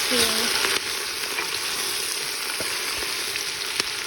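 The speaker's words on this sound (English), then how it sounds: "stir the onions to coat them with the oil" Large batch of onions frying in oil for French onion soup, stirred steadily with a continuous close sizzle and occasional scraping and clicking of the spoon in the pan.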